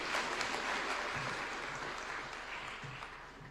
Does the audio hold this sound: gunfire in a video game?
no